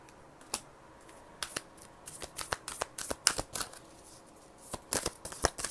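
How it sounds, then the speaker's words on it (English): Oracle cards from a Moonology deck being shuffled by hand, heard as scattered crisp riffles and flicks in short bursts, close and quiet, with no voices. "I'm going to pull a few cards from this deck."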